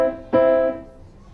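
Two piano notes struck in quick succession, a short pair counted as one-and, the second ringing louder and sustaining briefly before fading; no voices.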